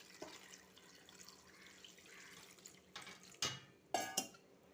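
Water is poured into a pot of chopped tapioca, heard as faint trickling followed by a few short, sharper splashing bursts near the end, with no talking.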